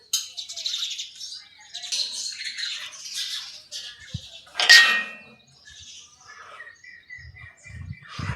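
Sparrows chirp and twitter at a distance on a hilltop temple site with water pots for birds, scattered high calls with a brief metallic clang midway and a few low knocks toward the end.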